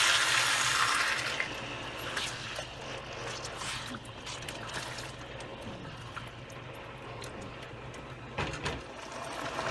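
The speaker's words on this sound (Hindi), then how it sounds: "2 कप पानी डालेंगे।" Water pours into a pot of aloo gosht, a potato and meat curry, with a burst of splashing at the start that settles into quieter bubbling and clinking in a home kitchen.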